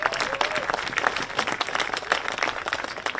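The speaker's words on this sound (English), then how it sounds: "if we could give them a round of applause as well." A crowd at a primary school Australian football championship applauds the medical officers, dense continuous clapping from many hands filling the space without a break.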